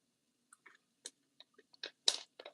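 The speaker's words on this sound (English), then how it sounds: "It's crunchy, crunchily good." Close, crisp crunching bites and chewing of garlic chives cake in quiet surroundings, about ten irregular crunches that grow louder toward the end.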